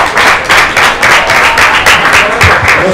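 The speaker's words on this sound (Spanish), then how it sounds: "Muchas gracias, un aplauso para ustedes." An audience at a talk on biodiversity and geological heritage in the Magdalena Medio gives loud, close applause, with rhythmic clapping that continues steadily throughout.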